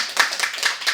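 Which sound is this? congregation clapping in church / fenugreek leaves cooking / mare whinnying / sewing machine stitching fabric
congregation clapping in church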